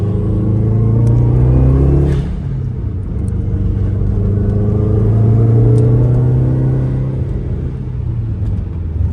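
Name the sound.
2006 Subaru WRX engine revving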